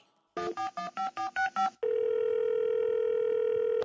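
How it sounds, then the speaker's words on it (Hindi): A telephone keypad beeps out a quick run of seven dialing tones, then a steady, loud dial tone rings on alone as a call to a caller goes through. "कॉलर को फोन लगाते हैं और पूछते हैं क्या है उनके मन में सवाल।"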